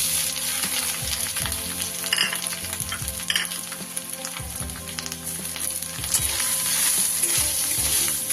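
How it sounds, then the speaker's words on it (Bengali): Dry red chilli and grated coconut fry in hot oil in a kadai, a steady loud sizzle with stirring scrapes throughout and no voices. "আমি তেলের মধ্যে দিয়ে দিচ্ছি একটা শুকনো লঙ্কা ফোড়ন, এরপর দিয়ে দেব আমি কুড়িয়ে রাখা কিছুটা নারকেল।"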